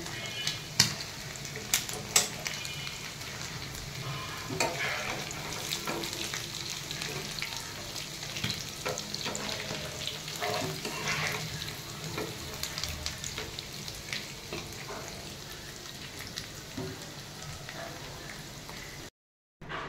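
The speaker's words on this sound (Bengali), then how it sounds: "মাংসটা হালকা ভেজে নেব, বেশি ভাজলে আবার শক্ত হয়ে যাবে।" Beef pieces fry in hot oil while being stirred in a home kitchen: a steady, loud, close sizzle with scattered scraping knocks near the start, running continuously until it cuts off just before the end.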